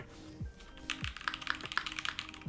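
A full-size mechanical keyboard with a non-daughterboard PCB clacks in a quick, uneven run of close taps, fairly quiet, with a faint low hum in the background.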